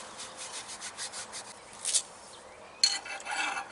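A hand file scrapes rust off a semi trailer brake S cam in a series of close, steady rasping strokes, ending in a few sharper, louder scrapes.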